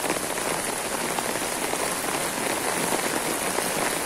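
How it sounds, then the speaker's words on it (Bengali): Heavy, continuous rain pours down during flooding in Feni, a dense unbroken roar of drops beating on surfaces, loud and close with no voices. "প্রচুর বৃষ্টি, এখন আবার দুখার বৃষ্টি আসছে"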